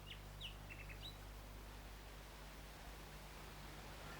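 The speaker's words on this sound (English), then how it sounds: "Do you hear the nightingale singing in the wood?" A nightingale sings in a wood, a few short bright chirps and whistles early on, faint against a steady low hum and hiss, with no voices.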